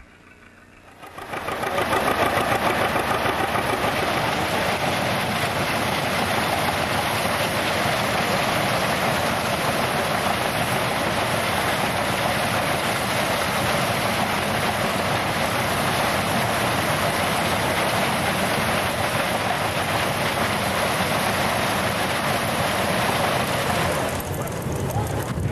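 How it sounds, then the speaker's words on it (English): Steady, loud engine drone of a Poppin' Johnny tractor powering a threshing machine at a show, running continuously for over twenty seconds with the belt-driven machinery's rattle and hiss layered on top before it cuts off. "we can listen to the wonderful sound of that Poppin' Johnny and watch once again this magnificent thrashing machine in operation"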